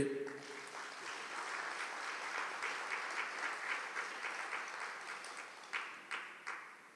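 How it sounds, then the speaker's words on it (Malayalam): Congregation applause during a Catholic thanksgiving prayer talk, steady broadband clapping from many hands throughout, with a few louder individual claps standing out near the end. "ഒന്നര കൈ ഉയർത്തി കൈയടിച്ചേ"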